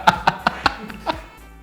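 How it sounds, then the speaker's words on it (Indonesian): Camera shutter of a spy pen phone held close to a microphone: four quick, sharp clicks about a fifth of a second apart, then two fainter clicks, ending in quiet. "Ini suara shutternya ya."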